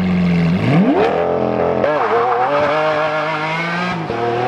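An Audi R8 twin turbo launches hard with launch control, its engine revving up in a loud rising roar that climbs through gears, with a sharp shift around the middle before pulling on strongly.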